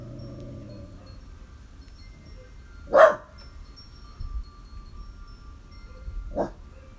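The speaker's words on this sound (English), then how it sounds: "There's so many dogs in the neighborhood." Neighborhood dogs bark at a distance outside a garden, with one sharp bark, a few faint yips, then another bark several seconds later over quiet outdoor background.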